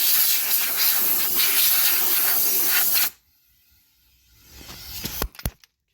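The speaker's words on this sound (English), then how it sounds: "If you got an air compressor, get your blow tool. Just blow that loose dust out." During a front hub bearing replacement on a 2011 Buick LaCrosse, an air compressor blow gun blasts loud, steady hissing air to clear out dust for about three seconds, then cuts off, followed by faint clicks and knocks.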